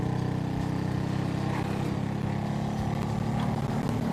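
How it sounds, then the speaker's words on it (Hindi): A motorcycle engine in the video game GTA 5 drones steadily and loudly, a continuous low rumble that holds even with slight pitch wavering and no speech. "बाइक की आवाज तेज हो रही है"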